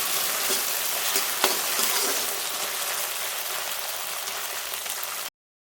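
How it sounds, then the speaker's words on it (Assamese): Outenga (elephant apple) pieces fry in a pan with a steady, dense sizzle and crackle that runs unbroken for several seconds, with no voices. "ঔটেঙাটো ভাজি লওঁ এতিয়া"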